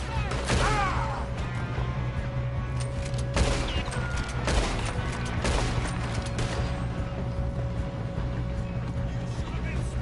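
Gunfire in a Red Dead Redemption 2 gunfight, with several sharp shots scattered over a few seconds against steady background noise while voices talk.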